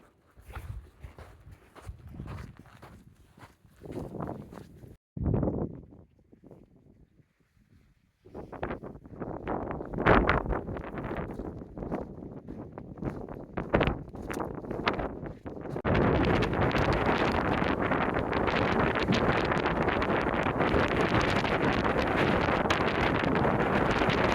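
Wind on the Pacific Crest Trail near Walker Pass buffets the microphone, at first broken up by footsteps and rustling, then settles into a steady, loud roar for the final several seconds.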